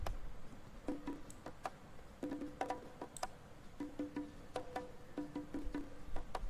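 Dry, unequalized percussion stem tracks from a soul-pop song recorded at Telefunken Studios, panned hard left, play faintly as sparse clicky hits and light taps in a loose rhythm, with no voices.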